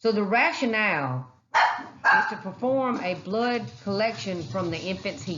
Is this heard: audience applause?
no